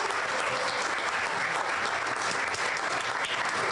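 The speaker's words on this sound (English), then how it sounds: "Let's give Julianne a big round of applause." Steady, dense applause from a luncheon audience at a Pride event, continuous and fairly even in loudness throughout, with no voices standing out.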